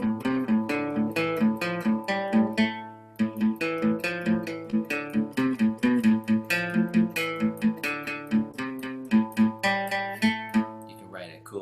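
An Aeolian mode scale played note by note on a pitched instrument, evenly spaced plucked tones stepping through the scale, clear and close, followed by further melodic notes.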